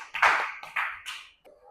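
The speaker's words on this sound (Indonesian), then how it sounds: "beri tepuk tangan kelompoknya Alifa" Students in a classroom clap briefly for a presenting group, a short burst of applause in a few quick swells that ends in under two seconds.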